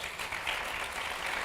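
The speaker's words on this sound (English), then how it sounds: "Can we give them a round of applause?" Applause from the audience thanking a panel at a community forum on a proposed new stadium in Nashville, a steady, even wash of clapping that fills the room from start to finish.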